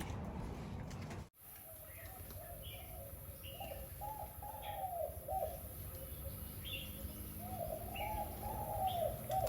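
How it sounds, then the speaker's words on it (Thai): A spotted dove, an old caged decoy bird with a small, thin, high voice, gives short repeated coos and chirps at moderate distance over steady outdoor background noise. "เป็นนกเสียงเล็กฮ้องนะครับ เสียงจี๊ดๆ เลยนะครับ"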